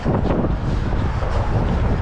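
Wind gusts outdoors at a park on a fall day, a loud, constant roar of buffeting against the microphone, steady throughout and with no voices.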